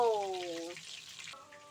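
Steady sizzling of fish frying in hot oil, close and fairly loud, with brief tonal squeals at the start and near the end.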